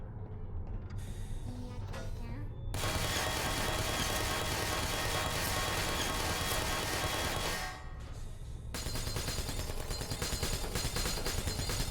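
Aperture turrets firing in the video game Portal, loud continuous rapid-fire bursts of automatic gunfire in long stretches, briefly cutting out between volleys.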